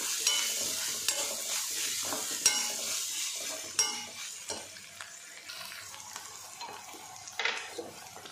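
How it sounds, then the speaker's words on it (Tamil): Onions sautéing with masala and salt for kadai paneer masala, a soft, even sizzle under intermittent scrapes and stirs of a spoon in the pan, close but fairly quiet. "இந்த மசாலாவுக்கு தேவையான உப்பு போட்டுக்கலாம். போட்டு நல்லா வதக்கிடலாம்."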